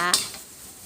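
Clams being stir-fried in a pan with sugar, fish sauce and green-cap soy sauce: one sharp metallic clink of a utensil against the pan, then a faint, quiet kitchen background.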